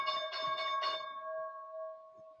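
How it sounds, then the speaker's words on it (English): Stock market opening bell rings out in a quick run of four bright metallic strikes, then leaves a clear sustained tone that slowly fades over a quiet background. "There is the bell."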